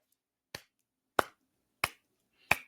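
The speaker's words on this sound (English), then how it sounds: "That's just me slow golf clapping." A podcast host gives a slow golf clap, four single sharp claps spaced evenly about two-thirds of a second apart, close and crisp against near silence.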